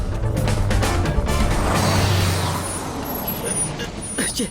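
A vehicle pulls away with a steady engine rumble and a hiss like an air brake, the noise swelling and then easing as it drives off, with talk over it.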